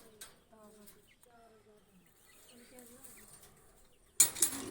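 Paired pigeons kept in a loft give soft, low, repeated coos close by in a quiet space, followed by a sudden loud rustling burst at the end.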